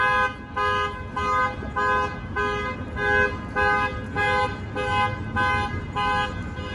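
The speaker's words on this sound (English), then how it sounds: "Don't you hate it when a car alarm goes off and it stays on for a while, it keeps going off?" A car alarm wails on Hollywood Boulevard at El Centro Avenue, its pulsing electronic tone cycling about ten times in a steady, insistent rhythm over a constant rumble of street traffic.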